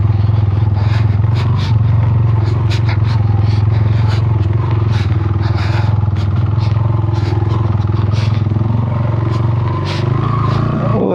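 A motorcycle ridden over a rough, snowy mountain road in Balochistan, its underside and engine scraping the ground: steady loud engine drone with repeated sharp scrapes and clatters throughout, close and continuous.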